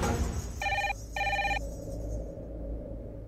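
Telephone ringing after a number is dialed: two short electronic ring bursts heard through a handset over a low background hum, followed by quiet.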